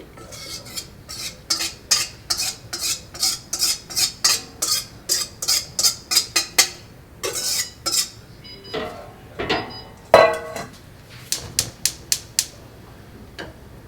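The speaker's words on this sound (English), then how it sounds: "And you're going to whisk this in the pan so that it stays a smooth cream." Cream mixture being whisked in a pan on a stovetop range for strawberries and cream: a quick run of close, sharp rhythmic metal taps and scrapes against the pan, pausing briefly and then resuming.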